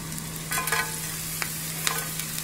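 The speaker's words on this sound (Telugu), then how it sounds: "ఆయిల్ వేడయ్యాక సన్నగా కట్ చేసి పెట్టుకున్న పచ్చిమిరపకాయలు వేసేసుకోండి." Chopped green chillies sizzle in a teaspoon of hot oil in a pan, a steady close hiss with a few soft scrapes and clicks of stirring, no voices.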